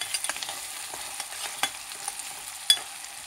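Onions fry in a pan for mutton keema while being stirred, with soft sizzling under quiet scrapes and taps of the spoon.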